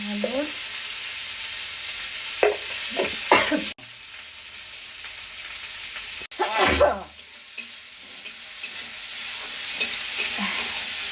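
Onion and garlic fry in a pan, a bright, continuous sizzle beneath a few short bursts of nearby voices and two abrupt cuts, with the hiss steady and close throughout.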